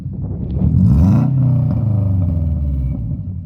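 A tuned Toyota Corolla engine running a DET3 system, revving up to a loud throaty peak then settling back into a rumbling idle, close by.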